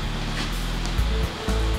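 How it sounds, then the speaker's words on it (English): Liquid wax is poured out of a mold after a first coating pour, giving a continuous rushing, splashing flow with low gurgling pulses throughout. "pouring out all the wax as the first pour was to form a coating"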